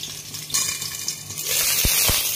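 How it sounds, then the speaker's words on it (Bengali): Eggplant pieces frying in hot oil in a covered pan, cooked plain with no salt or turmeric, giving a steady close sizzle and hiss that grows denser partway through, with two brief low knocks near the end. "বেগুনগুলো ভাজা হয়ে গেছে"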